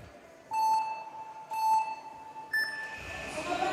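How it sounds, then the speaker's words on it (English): Three electronic start beeps about a second apart, the last one higher in pitch, followed by a rising crowd noise, at a men's speed climbing final in Bologna. "As you wait, the beeps."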